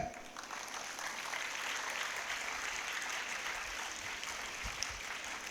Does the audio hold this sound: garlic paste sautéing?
no